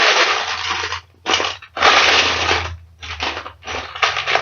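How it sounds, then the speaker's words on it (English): Hands rummaging through a box of Lego pieces, loud bursts of rattling, clattering plastic bricks in several separate stirs with short pauses between them, close and alone. "What you're hearing is me going through the Lego box that I currently own."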